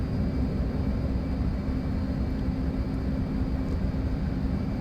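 An F/A-18 Hornet jet climbing in the DCS flight simulator gives a constant, even engine roar, a dense broadband rushing drone that stays level and unbroken throughout, with no talking.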